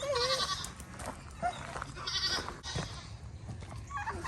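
Several farm goats bleat in repeated wavering calls at moderate distance, spread through a few seconds over a faint outdoor background, with no talk.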